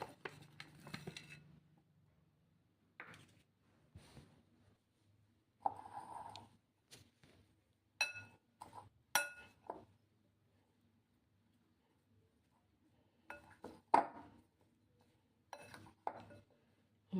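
Amla pickle is stirred in a bowl with a spoon, giving sparse, quiet scraping and clinking strokes separated by pauses, close by and without talk.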